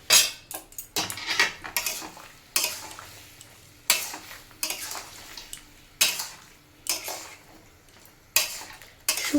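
Shukto is stirred in a cooking pot, with a metal spoon clinking and scraping against the pot in irregular taps and short bursts, close and fairly quiet, with no talk.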